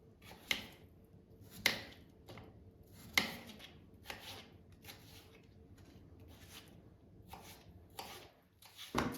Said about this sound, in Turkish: Şimdi hemen patateslerimi doğrayarak başlıyorum